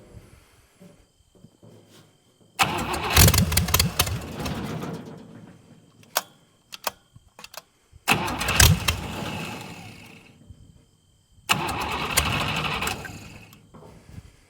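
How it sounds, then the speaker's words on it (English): A 1956 barn-find dragster engine cranks and catches in three loud bursts, each roaring briefly before cutting out, with quieter clatter and ticking between the attempts. "Not getting any fuel yet. Oh, there we go."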